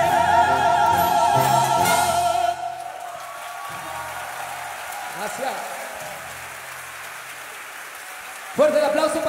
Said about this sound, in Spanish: Fuerte el aplauso para el maestro Miguel Salmón del Real, Mariachi, a la Orquesta Sinfónica Sinaloa de las Artes